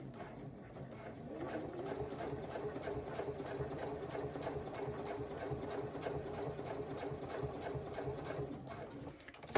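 A sewing machine stitches along the top edge of a crossbody bag, running in a fast, even mechanical rattle for several seconds before stopping, close and moderately quiet.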